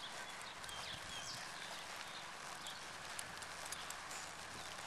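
Soft hoof clops of a horse walking at a steady pace, faint and somewhat distant, over a light outdoor background hiss.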